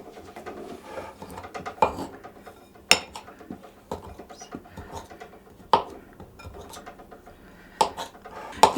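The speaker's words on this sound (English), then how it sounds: "I'm just going to go in with my knife and chop it up into small bits" A knife chops cold butter into small bits in a bowl while making pastry dough for Welsh cakes, giving sharp, irregular clicks and knocks that land every second or so, close by and fairly loud, with light scraping between them.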